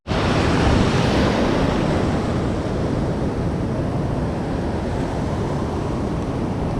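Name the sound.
ocean waves washing up on the beach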